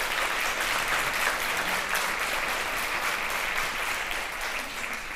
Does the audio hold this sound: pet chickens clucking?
no